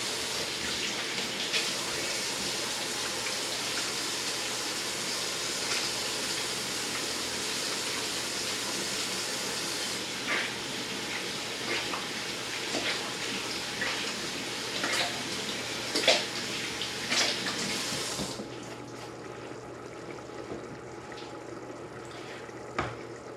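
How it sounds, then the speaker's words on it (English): Running tap water splashes steadily as hands are washed in a kitchen, a continuous close gush that shifts slightly with movement before the flow drops off near the end. "As a start, should probably wash my hands."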